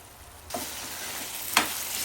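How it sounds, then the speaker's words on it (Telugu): Boneless chicken keema and leftover chicken bones are being stirred together in a pan, with a sudden sizzle rising mid-way and two distinct scraping sweeps of a spoon over a steady frying hiss. "ఇప్పుడు ఇదంతా ఒకసారి మిక్స్ చేసుకుందాం"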